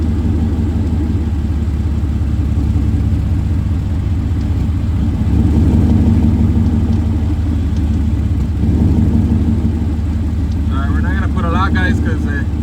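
A turbocharged Ford Coyote engine in a Foxbody car runs with a steady, deep, droning rumble, while someone talks over it.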